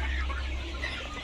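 Sonali chickens, two roosters and two hens, cluck from a bag while being weighed on a scale, a close, fairly loud burst of fowl calls.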